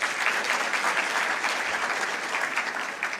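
A crowd at a graduation ceremony for a public service leadership fellowship applauds, loud and sustained clapping with a slightly uneven, rippling texture that carries on for a few seconds before easing off a little.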